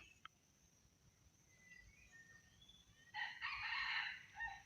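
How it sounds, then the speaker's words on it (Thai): Red junglefowl in a forest, with one faint, distant rooster-style crow rising near the end over a quiet, hissy woodland background. "ไก่ป่าฝูงนึงทุกคน"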